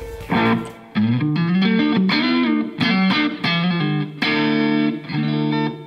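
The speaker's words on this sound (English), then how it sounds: "Let's chuck in a nice spring reverb." An electric guitar through a Line 6 Helix spring reverb effect plays a series of distorted chords and notes, each ringing out with a splashy, springy reverb tail.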